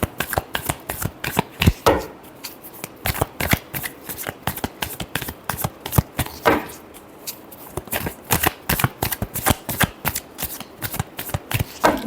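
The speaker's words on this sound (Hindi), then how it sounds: "Last shuffle." Tarot cards riffle and snap in steady repeated shuffles, crisp and close, each burst a quick flutter of card edges with brief pauses between.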